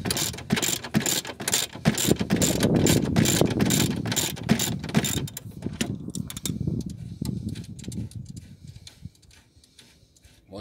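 A hand ratchet with a socket clicks in quick rhythmic bursts while loosening the steering rack bolts on a BMW 530d E60, close and loud at first, then thinning to sparser clicks.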